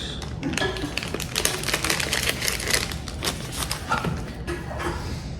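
Crinkly plastic and paper rustling and tapping as a GoPro Hero 12 accessory package is opened and unpacked, a dense run of close, busy handling noises with no talk.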